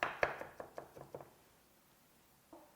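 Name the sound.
knife mincing green onion and garlic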